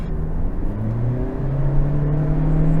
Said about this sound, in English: Pedal down there going uphill. Acceleration's good, of course. It is a bit drony